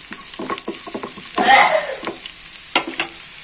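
Semiya (vermicelli) for upma roasts in a pan while being stirred, producing a close sizzle broken by repeated scraping strokes and a brief louder hiss midway, with no speech.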